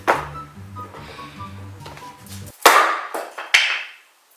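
Two heavy hammer blows strike wood, each sharp crack ringing out after a stretch of low mechanical rumble and scattered knocks.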